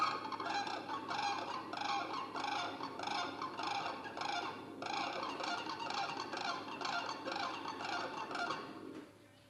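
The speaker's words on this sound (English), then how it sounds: "The cranes' primitive sounds filled the air much like this." A flock of cranes calls continuously, rapid rhythmic trumpeting and rattling cries overlapping in pulsing bursts, fairly close and loud.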